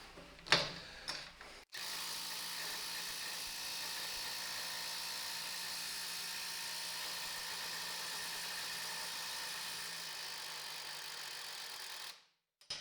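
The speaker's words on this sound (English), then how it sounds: "165 Newton meter impact driver." A cordless 165 Newton meter impact driver drives a 10 millimeter bolt. After a few short clicks it runs for about ten seconds as a continuous, faint, buzzing rattle, then stops abruptly.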